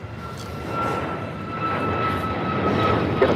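An American Airlines jet on its takeoff roll from runway 25 right at LAX, a broad steady engine roar that builds slowly over a few seconds, with a faint high whine running through it.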